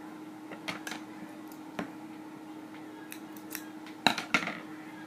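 Scissors snip paper in a few quiet, scattered crisp cuts, with a brief double snip near the end over a faint steady background hum.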